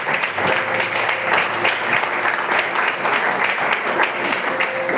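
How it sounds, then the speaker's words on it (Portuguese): Loud, sustained applause from a church congregation, dense overlapping clapping that stays constant from start to finish. "Amém. Aplauda ao Senhor."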